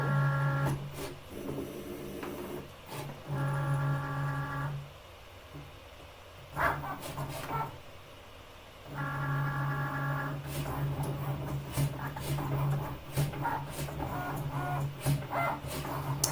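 A Cricut cutting machine cuts a stencil from craft board with a steady mechanical whir, broken into repeated stepped, buzzing motor passes with brief pauses between them and a constant hum underneath.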